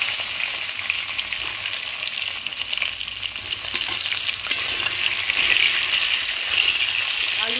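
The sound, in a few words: potatoes and eggplant frying in oil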